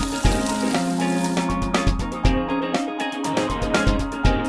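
Mushrooms hitting a hot pan with butter, a steady loud sizzle with crackling pops and scraping as they are tossed in and moved around, no talking.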